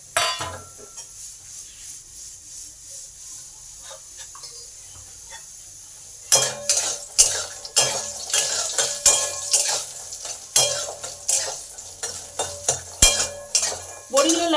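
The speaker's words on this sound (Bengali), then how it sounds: "প্রথমে বড়িগুলোকে ভালো করে ভেজে নেব।" Dried lentil dumplings fry in oil in a pan, a soft sizzle at first, then repeated scraping and clinking of a spatula against the pan in an uneven rhythm, close and fairly loud.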